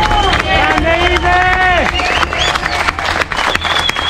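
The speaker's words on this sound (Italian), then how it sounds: "Applauso Ide!" Outdoor crowd claps and cheers for an injured BMX rider, loud and close, mixed with shouting voices and chatter over the whole stretch.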